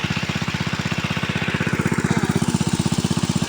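Irrigation water pump engine running beside a field and pond, a loud close single-cylinder putter with rapid, even thumping pulses that hold steady throughout.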